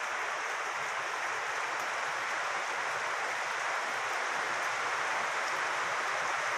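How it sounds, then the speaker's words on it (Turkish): Steady, even hiss of rain falling, a continuous wash of noise with no breaks or voices. "yine yağmur yağıyor"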